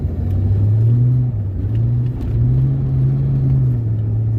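Fox body car engine accelerating in second gear while sliding around a corner on snow and ice, a loud steady low rumble that swells and dips with throttle throughout, close and continuous with no talk.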